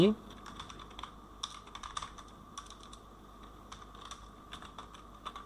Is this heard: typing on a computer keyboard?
yes